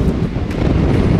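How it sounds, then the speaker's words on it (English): Gusty wind buffets the microphone in a low, rumbling roar for a brief moment at a cable car station in Langkawi, Malaysia, with no voices. "Yeah, it's windy."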